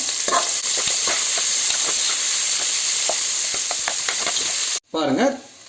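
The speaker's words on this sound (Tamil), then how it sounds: "இப்போ இதை நல்லா வதக்குவோம் தீ சிம்மில் தான் வச்சுருக்கிறேன்" Onions sizzle steadily in hot oil in a pan on low heat while being sautéed for a seeraga samba mutton biryani, a continuous close frying hiss with a brief stir near the end.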